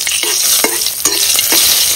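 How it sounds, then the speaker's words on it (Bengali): Dried red chilies and cumin seeds crackle and sizzle loudly in hot oil, with sharp pops and a steady frying hiss, close and with no voices. "তেল গরম হয়ে গেছে, শুকনো লঙ্কা আর জিরে দিয়ে দেব।"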